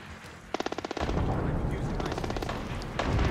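Enemy gunfire in the video game Splinter Cell: Blacklist: a quick burst of sharp automatic shots, then dense, loud overlapping fire and blasts that continue to the end.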